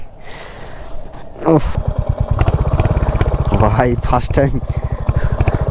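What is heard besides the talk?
Royal Enfield motorcycle engine while riding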